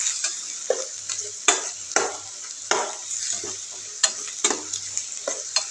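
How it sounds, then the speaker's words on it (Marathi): Garlic-coconut paste roasting in oil in a pan after the onions, a close, bright sizzle broken by repeated scraping strokes of a stirring spoon, with a low hum beneath and nobody speaking. "त्याच्यात ही लसूण खोबऱ्याचं वाटण टाकून घेऊया. वाटण आपण चांगलं तेल सुटेपर्यंत भाजून घ्यायचं."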